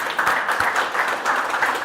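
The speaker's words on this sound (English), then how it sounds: "Give him a round of applause." Applause at a startup pitch competition in Green Bay, Wisconsin, as an audience claps for the next presenter; steady, moderate clapping with a few sharper claps standing out, lasting under two seconds.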